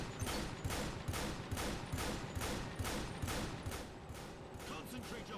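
Rapid gunfire from the Earth Defense Force 5 video game rattles in a steady, evenly spaced burst of about a dozen sharp shots at moderate distance.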